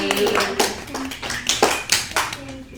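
A small group in a casual gathering gives scattered, uneven hand claps, a few distinct smacks close by, with voices talking over and around them.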